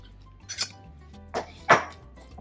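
Spoon clinking and scraping in a bowl while mashing pico de gallo into guacamole, a few short knocks and a louder scrape near the end, close and alone.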